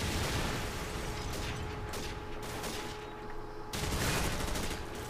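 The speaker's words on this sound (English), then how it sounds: "Dude, M4 shoots fast" M4 assault rifle firing in Call of Duty 4, dense rapid bursts of shots with a brief pause before a final loud burst, close and dominant with no voices.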